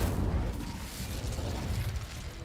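Incendio fire spell cast in Hogwarts Legacy, a steady roaring burst of flame that fills the clip at an even, loud level with no talking.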